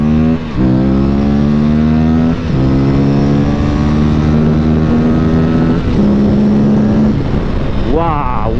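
An Aprilia RS457 sport motorcycle engine revs hard up through several gears, each rising whine cut by a quick shift, loud and close, with a voice near the end.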